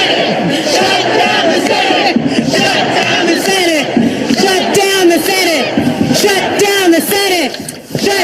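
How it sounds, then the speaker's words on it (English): A large protest crowd of thousands, joined by members of Congress, loudly chants "shut down the Senate" in a steady rhythmic roar, many voices shouting together close and continuous. "Crowd shouting there, shut down the Senate"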